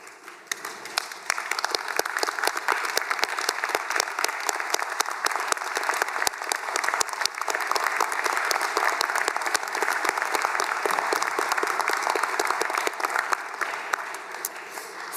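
Sustained applause from a large audience at a university graduation ceremony in Hobart, as graduates stand and clap for their supporters; dense, steady clapping fills the hall at an even level throughout, with no speech over it.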